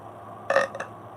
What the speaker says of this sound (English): Need to burp.